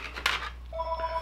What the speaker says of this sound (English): Pardon the phone ringing in the background.